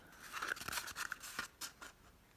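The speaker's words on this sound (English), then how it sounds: "you're gonna take your scissors" Scissors snip through paper while an owl craft is being cut out, a quick run of close, crisp snips and rustles in an otherwise quiet space.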